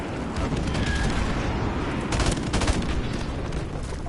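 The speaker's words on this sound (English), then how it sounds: "Airstrike." Dense gunfire and explosions from an airstrike in the Call of Duty: Modern Warfare video game, a loud continuous barrage with bursts of heavier blasts, no speech.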